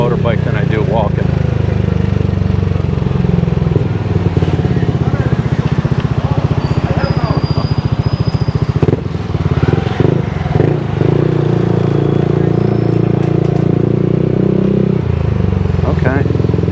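Motorbike ridden through Angeles City, Philippines, its engine droning loud and close with a steady low rumble and shifting revs, while someone talks over it.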